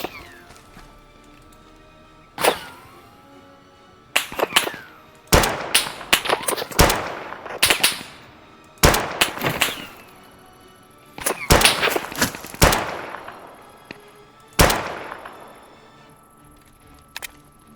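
Pistol fire in the survival shooter game Deadside, sharp cracking shots in scattered bursts of single and double reports, loud against a quiet background with faint talk.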